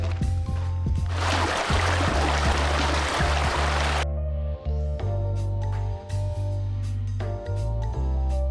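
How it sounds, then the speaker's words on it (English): Steady rushing water near a waterfall in Gatineau Park, a broad hiss heard for several seconds alongside hikers' footsteps and faint chatter, then fading back behind a low background hum. "We can hear the sound of water."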